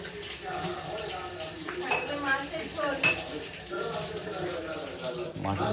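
Pots, pans and cutlery clink and clatter in a home kitchen as a fish curry with rice is being cooked, with people talking over the steady clatter and a few sharper clinks.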